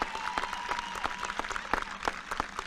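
A high school class of 2020 graduation crowd applauds the graduating students, a quiet, distant patter of scattered individual claps rather than a dense roar.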